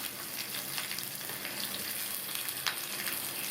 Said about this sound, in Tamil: இது எல்லாத்தையும் 1 நிமிஷம் போல வதக்கிக்கணும்